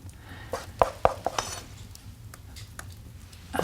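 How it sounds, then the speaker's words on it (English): A spoon scrapes and taps against a pot and bowl while yellow brochan, an oat porridge with honey, is served, a few sharp clinks over soft, quiet kitchen background. "We'll just take a nice bowl and then just spoon this in."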